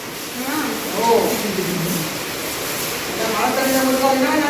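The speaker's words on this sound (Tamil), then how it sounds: "மழை வர பெய்யுதுண்ணா" Heavy rain pours steadily in a Jaffna village, a constant hissing wash close by while people talk over it.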